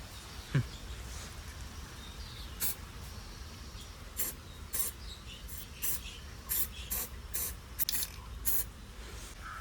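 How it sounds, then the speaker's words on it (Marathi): Short bursts of an aerosol spray hiss in quick succession, some brief and some longer, against a quiet room background. "बारीक थेंब हवेत स्प्रेड करतंय"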